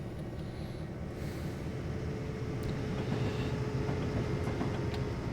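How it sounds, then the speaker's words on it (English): A simulated freight train rolls past on the Marias Pass line in Train Simulator 2, a steady broadband rumble with faint clickety-clack and a sustained tone that grows slightly louder toward the end, with no talking. "another train coming back the other way"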